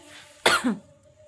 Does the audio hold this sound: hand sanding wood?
no